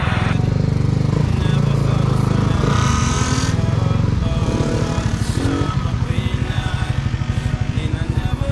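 A motorcycle engine revs and idles up close in Butuan City, its sputtering rumble rising and falling, with brief bits of voices mixed in.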